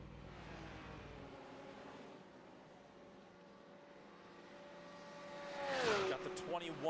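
LMP2 prototype race cars in the iRacing video game roll down pit road at Daytona, their engines droning steadily at a fairly faint level. Near the end a car passes close by with a pitch drop.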